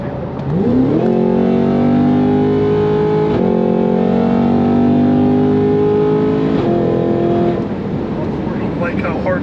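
Cadillac CT5-V Blackwing on 93-octane fuel pulling at full power on a highway, its engine droning loud and steady with firm gear shifts breaking the rising pitch, people talking over it inside the cabin.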